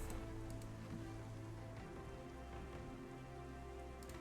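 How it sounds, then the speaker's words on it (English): Steady rain falls in a continuous wash of patter in a Guadalcanal strategy video game, with a low hum and a few faint tones underneath, no voices. "It's raining."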